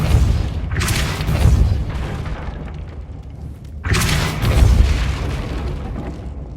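In the video game Hogwarts Legacy, two loud booming Depulso spell blasts land about four seconds apart, each a heavy burst with a rumbling tail.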